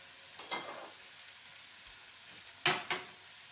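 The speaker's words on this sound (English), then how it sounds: "we're sweating the onions off and all the ingredients in there" Onions, garlic and other curry ingredients sweat in a pan over mild heat, giving off a faint, soft sizzle that swells briefly a few times as they are stirred, with no talking.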